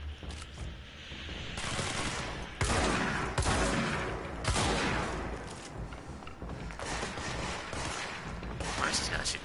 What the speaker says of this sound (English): Why is this guy shooting at me now?